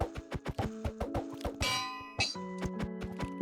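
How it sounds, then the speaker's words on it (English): A bell being placed in a Minecraft server world: a quick run of bright metallic clangs and dings, several rapid strikes with ringing tones, fairly loud and close. "I don't know why I can't place the bell."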